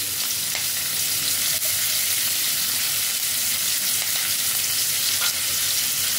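Chopped onion frying in tempered spiced oil, a dense, even sizzle that holds steady throughout, close and loud, with a few faint stirring ticks and no voices.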